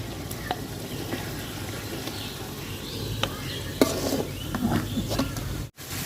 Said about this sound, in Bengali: এই মশলাটাতে চাল ভাজা লেব